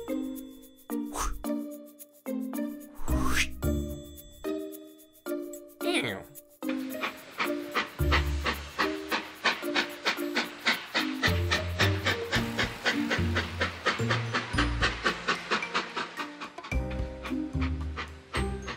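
A cartoon train in a Polish children's educational cartoon rolls along with a steady rhythmic chugging clatter under bright music, while cartoon voices talk over it.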